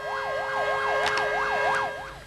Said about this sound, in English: They set their sirens wailing in the city during the 1-hour stoppage